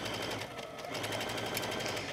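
Sewing machine running a serpentine stitch on a poncho with the fabric under the free arm and presser foot down, a steady fast rhythmic whirring and ticking close up, continuous throughout and without talk.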